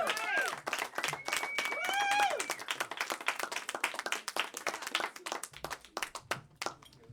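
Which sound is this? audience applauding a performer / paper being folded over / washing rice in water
audience applauding a performer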